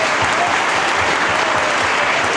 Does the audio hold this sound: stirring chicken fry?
no